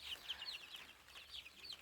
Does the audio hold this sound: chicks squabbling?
yes